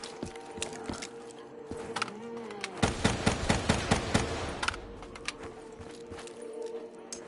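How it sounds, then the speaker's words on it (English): A minigun spins up and fires in Call of Duty Black Ops 7 Zombies, letting out a fast, rattling stream of shots that builds in the middle and then trails off into scattered pops, with a steady hum underneath. "How come this thing ain't called a maxi gun?"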